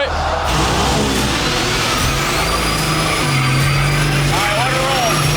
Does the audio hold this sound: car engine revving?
yes